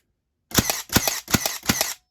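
Four rapid, evenly spaced sharp bangs come from a Milwaukee M18 brad nailer firing 2-inch brads in rapid succession, each close and loud with a brief mechanical snap.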